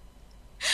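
A sharp, breathy human gasp bursts out suddenly at the very end after near silence, loud and close.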